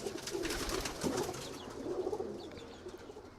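Birmingham Roller pigeons cooing inside a loft, soft repeated coos near and moderately quiet over a faint steady background, several bursts across the span.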